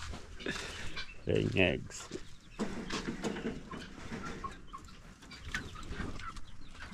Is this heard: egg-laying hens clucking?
yes